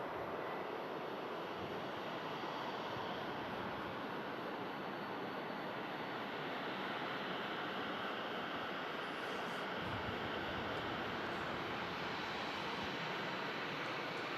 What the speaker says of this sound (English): Singapore Airbus A350 on the taxi, just going ahead and crossing straight over runway 23 right.